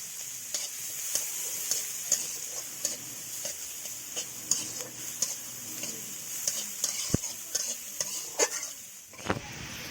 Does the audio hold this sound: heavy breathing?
no